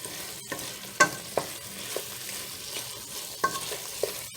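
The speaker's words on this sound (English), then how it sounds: "Mix that real good till you don't see any more of the flour." Flour being stirred into a thickening beef pot pie sauce in a pan, with soft sizzling and a series of light scraping and tapping spoon strokes spread across the moment.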